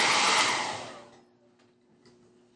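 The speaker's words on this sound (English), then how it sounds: "I'm just going to hit it with the dryer because otherwise it'll take forever." Hair dryer blowing loud and close on craft glue for about a second, then switched off and winding down to near silence, with a faint low hum and a couple of small clicks.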